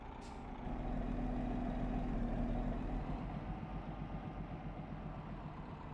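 A DAF truck's diesel engine idles with a deep, steady low rumble and a faint high hiss at the start, close and continuous, with no voices.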